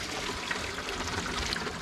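Spring water keeps flowing steadily in a snowy setting where water is being fetched, a continuous soft pouring and trickling with no speech.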